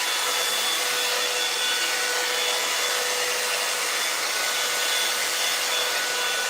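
A blow dryer runs continuously on hair, a steady, loud whoosh of airflow with a faint motor whine, holding an even level without pause and with no talking.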